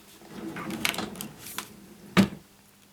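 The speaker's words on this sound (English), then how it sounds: "let me just get my staple extractor from my drawer" A desk drawer slides open once to fetch a staple extractor, a short sharp knock after a moment of faint rustling, close and quiet in an indoor craft room.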